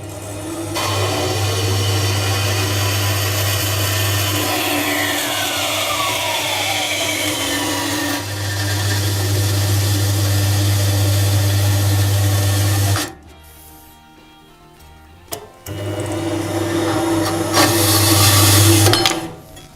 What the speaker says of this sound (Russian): чтобы распилить эту профильную трубу